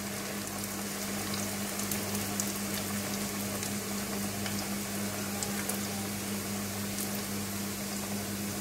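Semolina-coated chicken pakoras fry gently in oil over a low flame, giving a steady, even sizzle that runs unbroken from start to finish with a faint low hum beneath it.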